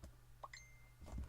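Facebook Messenger notification chime from a phone: a short, quiet pair of bright tonal pings over a low steady hum, with a soft thump at the end.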